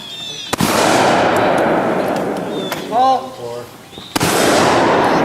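Shotgun blasts at a trap shooting clay target range, with two sharp reports, one near the start and one later, standing out over steady outdoor noise and a brief bit of talk in between.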